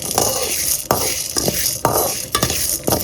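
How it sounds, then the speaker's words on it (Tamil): Sesame seeds and chana dal dry-roasting in a pan without oil, a steady dry rattling hiss broken by sharp scrapes of stirring about once a second, close and fairly loud with no talk. "இதுவுமே எண்ணெய் இல்லாமல் வறுத்து எடுத்துக்கணும்"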